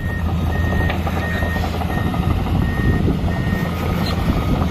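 Excavator reversing beeps repeating at a steady interval over a continuous low rumble of heavy diesel machinery, with the beeps fairly clear and the engine noise dense and constant underneath.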